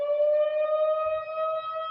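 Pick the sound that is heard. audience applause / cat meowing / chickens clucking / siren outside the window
siren outside the window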